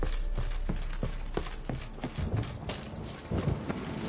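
Horse hooves clip-clop in a steady walking rhythm in The Witcher 3, fairly close and clear over a constant low game ambience, with no talk.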